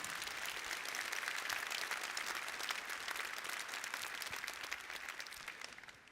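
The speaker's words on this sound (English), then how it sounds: "Join me in giving them applause." Steady audience applause fills a keynote hall at a Long Beach technology conference, a dense wash of clapping that holds strong for several seconds before tapering off slightly at the end.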